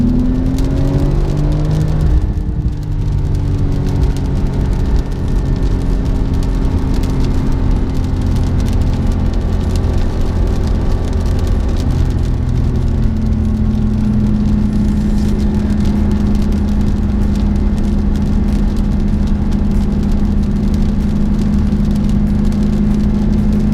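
A 2015 Porsche 911 Turbo S accelerates on a wet road, its engine note rising and then holding a steady, loud drone with road and tyre hiss underneath throughout, heard from inside the car.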